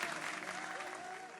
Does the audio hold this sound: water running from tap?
no